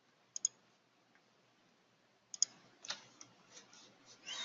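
Computer mouse clicks while edges are selected on a 3D CAD model: sharp, faint clicks, a pair early on and another few later, over quiet background noise with a soft rustle at the end.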